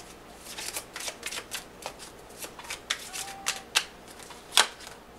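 Tarot cards being shuffled by hand, a run of soft riffling flutters and light slaps in quick succession, close and fairly quiet, ending with a sharper snap.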